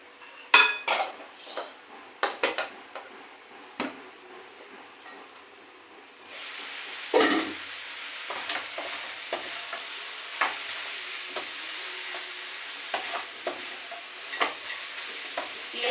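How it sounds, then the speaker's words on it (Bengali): Malancha greens being stirred with sugar in a pan, with repeated utensil scrapes and clinks over a steady sizzle that grows louder midway. "চিনি দিয়ে ভালো করে নাড়াচাড়া করতে হবে"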